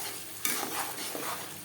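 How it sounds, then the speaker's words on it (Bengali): Tomato paste frying in a pan as it is stirred, a soft sizzle with a sharp scrape near the start and gentle stirring strokes, fairly quiet and close. "হালকা করে ভেজে নেব। আর দিয়ে দেবো টমেটোর পেস্ট।"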